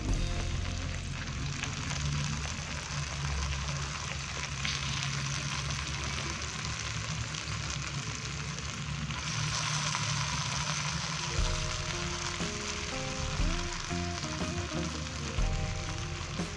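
Shark meat stir-fried in a pan for an Acehnese dish sizzles in a loud, steady hiss that runs the whole time, with faint stirring underneath and no talking.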